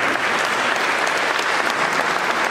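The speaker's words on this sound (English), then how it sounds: "Give her a round of applause." An audience claps for a singer who is about to perform, giving steady, dense applause throughout at a close, even level, with no voices rising above it.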